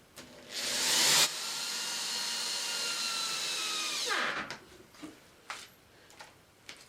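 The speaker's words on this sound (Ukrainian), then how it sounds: "я беру один довгий саморіз на кожну ніжку і прикручую між собою одночасну ніжку, дошку і брусок" A power drill drives a long screw into the wooden legs of a beehive bottom, a loud sustained whine that ramps down as the screw seats, followed by a few faint clicks and knocks.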